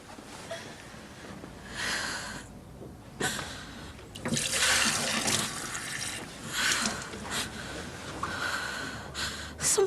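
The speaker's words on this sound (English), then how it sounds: "Can you just get me a glass of water, please?" Tap water runs into a glass in intermittent splashing bursts, close and fairly loud, with short pauses between pours and no talking.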